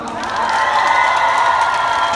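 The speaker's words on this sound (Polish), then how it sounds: "Wielkie brawa!" Concert crowd at Torwar arena in Warsaw during a platinum record presentation, a dense roar of applause, cheers and whoops swelling quickly and holding loud for the full stretch.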